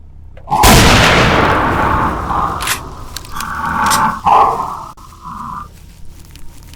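A loud shotgun blast booms out in a video game, followed by scraping and clattering game noises with a few fainter impacts over the next several seconds.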